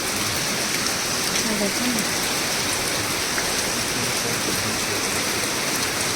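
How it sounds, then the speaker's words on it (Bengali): Heavy cloudburst rain pours down steadily as a dense, constant roar of falling water outdoors, flooding the yard; a brief spoken word sounds over it. "বৃষ্টি ক্রমশ বেড়ে যাচ্ছে, চৌবাচ্চা হয়ে গেছে, বুঝতে পারবে?"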